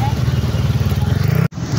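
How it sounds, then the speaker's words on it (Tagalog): Heavy street traffic during the Sinulog festival: a steady, close motorcycle engine drone with a low pulsing rumble and faint street clatter, interrupted by a brief dropout near the end while someone talks over it. "So see, grabe ang traffic."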